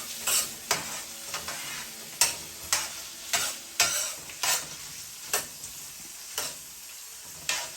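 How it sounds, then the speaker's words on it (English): A spoon stirs sausage and cabbage frying in a pan over medium heat: about a dozen rhythmic scraping strokes over a low, steady sizzle. "I'm going to get a spoon so I can stir this up"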